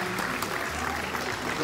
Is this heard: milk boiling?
no